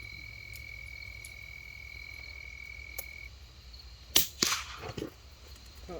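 A Ruger Precision Rimfire rifle fires at a root beer can about 75 yards off outdoors: one sharp crack followed by a couple of quieter smacks and rattles, over a steady high insect-like hum and faint background noise.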